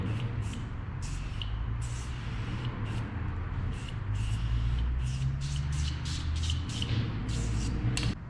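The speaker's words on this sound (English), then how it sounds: "And their new Easy Spray aerosol can." Tough Task Cleaner foam sprayed from an Easy Spray aerosol can, heard as a rapid series of short, hissing bursts over a low background rumble.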